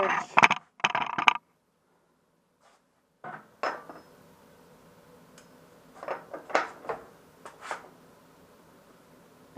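A wrench clanks and scrapes against metal while loosening the rear wheel of a 2008 Ducati 848, sharp metallic knocks in clusters separated by short quiet gaps.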